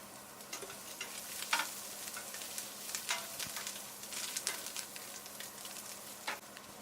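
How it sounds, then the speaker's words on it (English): Fish noodle soup being stirred in a pot, with steady soft scraping and light bubbling and sizzle, broken by a few sharper utensil clinks against the pot; no voices. "into the pot, and then give it a stir"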